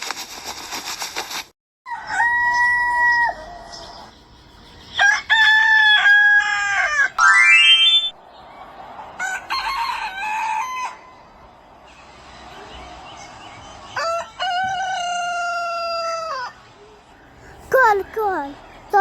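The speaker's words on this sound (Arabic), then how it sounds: "كول صوت الديك اسمه صياح." A rooster at a bird garden crows in several loud, drawn-out calls, close by, with clucking fowl and people's voices around it.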